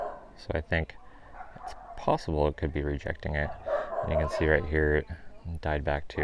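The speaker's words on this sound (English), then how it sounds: "Sorry about the barking dogs." Dogs bark and yip in the background of a home garden while a person talks steadily over them, the barks sitting partly masked beneath the speech.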